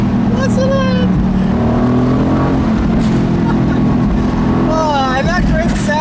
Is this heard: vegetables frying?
no